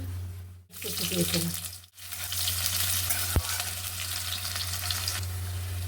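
Whole spices and bay leaves hit hot oil in a pan and sizzle loudly, a steady hiss with brief drops and a sharp clink partway through.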